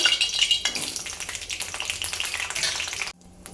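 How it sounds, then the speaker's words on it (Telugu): Green chillies, eight or nine of them, sizzle and crackle loudly in hot oil, a dense steady frying hiss that drops abruptly to a quieter simmer near the end. "ఇది ఆయిల్లో వేసేస్తున్నాను ఫస్ట్."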